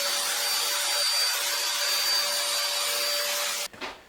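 A vacuum cleaner sweeps up a guitar-building workshop, a steady close whine running for several seconds before it cuts off abruptly near the end.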